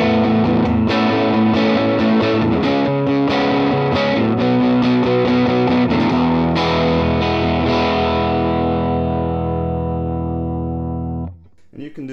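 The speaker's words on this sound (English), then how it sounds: "when you put them both in the middle, you get two humbuckers, much like a Les Paul or an ES335." Telecaster Thinline electric guitar with Seymour Duncan P-Rails pickups, both set to humbucker mode in the middle position, played as a loud, distorted sustained chordal passage with effects, ringing out and decaying near the end.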